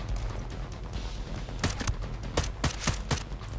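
Sniper and rifle fire in the video game Ghost Recon Breakpoint, a quick run of sharp close shots in an uneven rhythm over constant game background noise.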